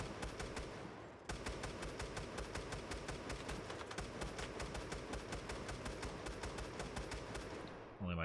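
Rapid, steady machine gun fire in the mobile shooter Battle Prime, Domination mode. A long, evenly spaced stream of cracking shots is heard, with a brief pause near the start, fairly faint and without talking.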